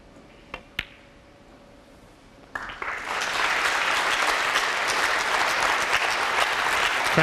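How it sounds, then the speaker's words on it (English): A snooker crowd breaks into sustained applause after a couple of isolated claps, the clapping swelling quickly and holding steady and loud for several seconds with no commentary over it. "Crowd willing him on."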